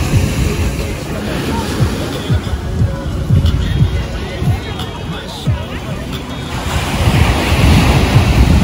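Surf rolls steadily onto a crowded beach in Puerto Vallarta, with gusty wind buffeting the microphone and a faint murmur of crowd voices mixed under the waves.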